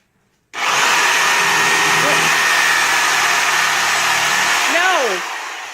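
A Sawzall reciprocating saw starts abruptly and holds a loud, steady buzzing whine, with pitch sweeps near the end before the motor winds down; a voice is faintly present.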